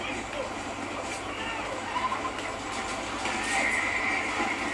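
A horse whinnies in the Red Dead Redemption video game, with hooves clip-clopping nearby while a train setting hums underneath and a voice talks over the action.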